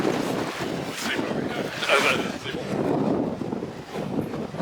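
Strong wind roars and buffets the microphone in an open geothermal geyser area in Iceland, gusting unevenly throughout while a person speaks over it.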